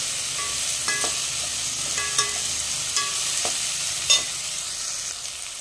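Chopped tomato sautés with onion in a hot pan, a steady sizzle broken by several sharp clinks and scrapes of a spoon stirring against the metal.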